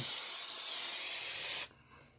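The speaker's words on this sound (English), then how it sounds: "be nice and spray just a little on the actual pad" A spray can or nozzle gives a loud, steady hiss for under two seconds onto carpet pad inside a custom C10 truck, then cuts off sharply.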